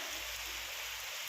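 Heavy evening rain pours down in a dense, steady hiss with a low rumble beneath, continuous and loud with no voices.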